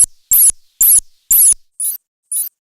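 A closed hi-hat tone played on a Stylophone Gen X-1 synth, pitch-shifted with a lower layer: three short bright noisy bursts followed by two softer ones, evenly spaced and alone.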